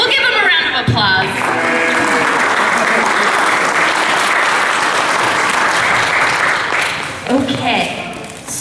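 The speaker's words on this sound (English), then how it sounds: "so we'll give him a round of applause" Loud, sustained applause from a crowd at a congressional district healthcare debate, lasting several seconds, with a voice speaking briefly before and after.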